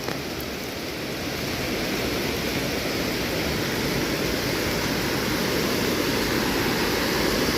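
River water pouring over a weir during heavy monsoon rain in Konkan, a dense, steady, loud rushing roar that holds without a break.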